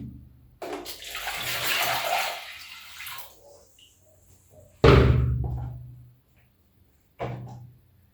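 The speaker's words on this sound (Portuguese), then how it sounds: "E agora você pega essa água, volta no potinho aqui." Water is poured back into a small pot while mixing plaster for a 3D plaster wall panel, heard as two splashy pours, the first longer and the second sharper, with a brief trickle near the end and no talk.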